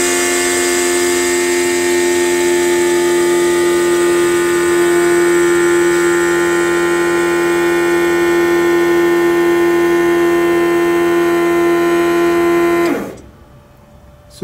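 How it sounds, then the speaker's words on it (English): Loud, steady electric vacuum pump drone on a VW Bus EV conversion, with a sustained high whine that runs unchanged for a long stretch, then abruptly cuts off near the end. "that vacuum pump will pump and will stay within a certain, you know, vacuum range."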